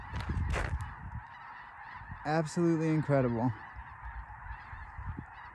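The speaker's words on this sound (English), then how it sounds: "Every dot on your screen you see is a bird." Flock of geese honking at sunset along a trail, a burst of loud overlapping honks in the middle with fainter calls before and after, over steady background hiss and a brief spoken exclamation.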